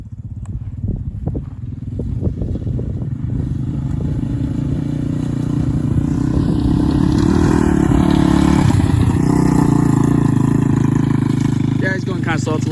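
A 1999 Yamaha Warrior 350 ATV engine revs and pulls while riding over bumpy ground, shifting through gears into third, a loud close rumble rising in pitch, with rattling clatter early on.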